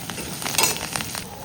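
Tempering with coriander sizzling in hot oil, a close crackling fry with a few sharper bursts as it is stirred, no voices.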